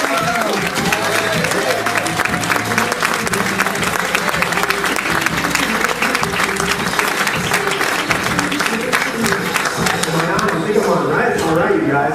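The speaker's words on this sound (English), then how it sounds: "So give him a round of applause" An audience at a business talk claps for a speaker with loud, dense applause that continues steadily for about twelve seconds, with some cheering and voices mixed in.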